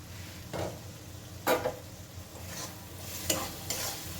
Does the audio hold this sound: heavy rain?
no